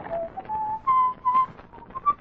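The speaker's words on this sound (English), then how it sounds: "We know you whistle like a canary" A person whistles a wavering, birdlike tune of short rising and falling notes, close and fairly loud, with no talking.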